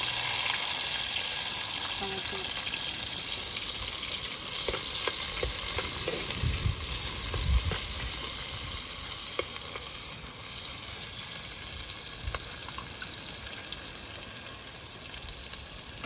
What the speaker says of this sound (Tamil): சட்டிக்குள்ள எண்ணெய் ஊற்றி எண்ணெய் கொதிச்சுட்டு இப்போ நாங்கள் வெங்காயமும் பச்சை மிளகாயும் போட்டு